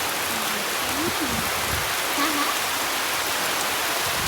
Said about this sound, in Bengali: হেভি বৃষ্টি হচ্ছে